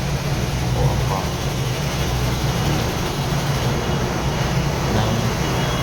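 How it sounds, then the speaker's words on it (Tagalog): Deep, loud motor or pump running in the engine room of the cruise ship Diamond Princess, a steady low-pitched roar that holds unchanged throughout with no break and no talk. "malalim dan malakas na motor o ang pump"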